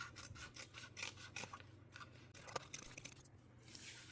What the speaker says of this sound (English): We can now trim away any overhang from the main lining panel